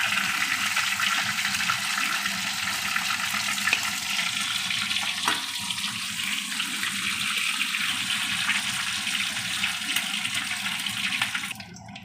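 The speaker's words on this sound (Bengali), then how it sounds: "বাকি মাছগুলো ভেজে নিই।" Fish frying in a pan for a Bengali dish, a dense steady sizzle and crackle of hot oil, close and continuous, stopping abruptly at the end.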